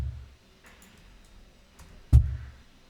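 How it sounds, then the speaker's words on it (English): A heavily processed kick drum with aggressive EQ and phase distortion lands as one loud, booming low thump near the end, after a faint low rumble and quiet stretch at the start. "One more thing that I forgot to show you is this additional kick that I added."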